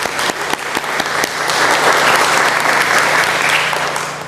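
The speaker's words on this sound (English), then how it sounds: "Give them a round of applause just for being here tonight." Audience applause at a 2018 Chamber of Commerce midterm candidate forum, a dense steady wash of clapping that builds to full loudness and holds through the end.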